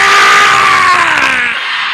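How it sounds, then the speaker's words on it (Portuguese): A church congregation shouts a loud, sustained collective cry, one strong mass of voices that slowly fades after about a second and a half. "Bem alto, grita: yeah!"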